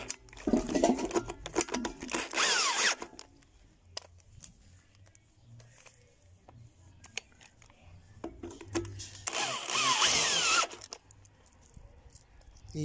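A power drill whirs in two bursts of a few seconds each, a high buzzing spin that starts and stops, with quiet handling sounds in between, while repairing a Maytag washing machine's faulty transmission.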